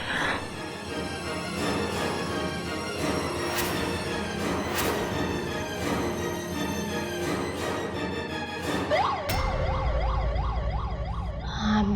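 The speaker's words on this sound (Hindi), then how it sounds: "एम्बुलेंस आसीगला बोधे" An ambulance siren wails in repeated rising and falling sweeps, growing louder as it nears, emerging at the end after a stretch of dramatic music from an Odia TV serial scene.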